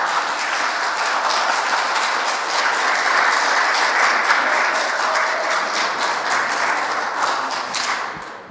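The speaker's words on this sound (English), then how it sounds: "big round of applause to Kris" A loud, sustained round of audience applause at a humanist forum meeting, many hands clapping steadily for over eight seconds before tapering off.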